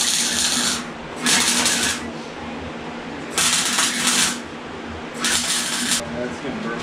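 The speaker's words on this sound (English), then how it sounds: "Let me throw some spot welds on it." Spot welding on a go-kart roll cage: three bright, crackling bursts of about a second each over a constant noisy workshop background.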